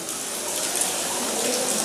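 Water flows steadily at the Bada Mahadev temple in Narsinghgarh, a continuous close, fairly loud rush like a running tap or small stream, with no break over the short stretch.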